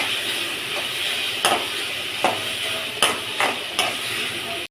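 Tomatoes sauté in a pan with a steady sizzle and hiss, broken by a few sharp clinks of a utensil stirring against the pan.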